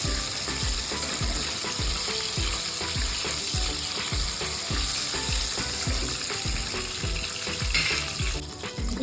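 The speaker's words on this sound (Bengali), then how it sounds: "খুব কড়া করে ভাজার দরকার নেই। এবার আমি উল্টো পিঠ করে দিলাম।" Pabda fish fry in a hot pan with a continuous close sizzle, while a steady run of rhythmic ticking clicks repeats under the frying throughout.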